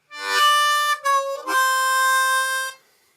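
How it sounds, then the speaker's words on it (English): A harmonica plays a short blues lick on the 4 hole: a draw, a half-step bent draw, then a 4 blow, three clear sustained reedy notes with brief breaks between, close and alone. "all we're doing here is 4 draw, 4 draw, half step bend, and then 4 blow."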